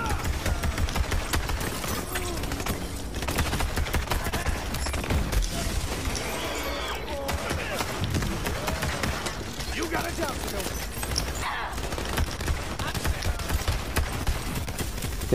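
Loud, dense gunfire from the video game Borderlands 3, with bursts of automatic fire and explosive effects packed into a busy game mix, and a player talking over the action.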